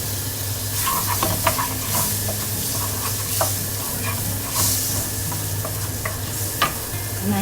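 Butter sizzles in a very hot frying pan with a steady crackling hiss, broken by occasional scrapes and clinks as it is stirred, before garlic is added for a butter garlic snail dish.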